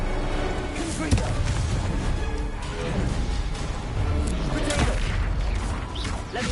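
Explosions and blasts from the Confringo fire spell in Hogwarts Legacy, a dense rumbling barrage of booms and crackling impacts that stays loud throughout, with game effects layered over it.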